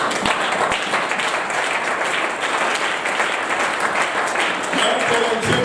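A church congregation applauding in praise, a dense, steady wash of clapping filling the whole stretch at close range with a faint murmur of voices underneath.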